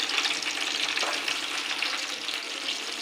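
Ginger and green chili paste frying in oil, a steady close sizzle with a bright hissing crackle that runs unbroken for a few seconds, with no talking.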